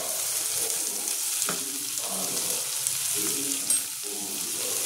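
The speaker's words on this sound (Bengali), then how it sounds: "কাঁচা লঙ্কাটা দিয়ে দেবো কুচিটা। এটা একটুখানি আমি হালকা কষিয়ে নেব।" Chopped green chillies fry lightly in a pan for a Punjabi-style dal, giving a steady close sizzle with a few soft stirring scrapes and clicks throughout and no talking.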